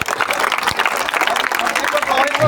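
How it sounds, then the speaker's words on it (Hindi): A crowd in a village claps loudly to welcome people at an outdoor political rally, with dense, continuous clapping and voices mixed in. "महावीर भगत जी भाई जोरदार तालियों से स्वागत करेंगे।"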